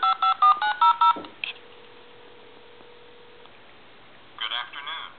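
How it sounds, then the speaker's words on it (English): A CA67 military telephone redials, sending a quick run of about six DTMF tones up close, followed by a quiet humming line and then a recorded voice answering. "I'll hit redial."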